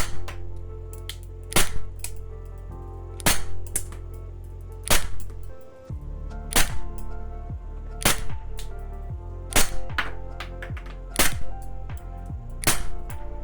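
A VFC FN Herstal FNS-9 airsoft gas pistol on green gas being test fired, a long series of sharp, evenly spaced snapping shots about every one and a half seconds, close and clear with no talk.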